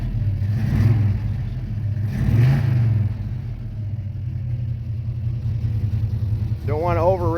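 A 1971 Roadrunner with a 383 V8 and four-speed idling in the cold with a steady low rumble, swelling in a couple of mild revs early on, and a voice briefly heard near the end.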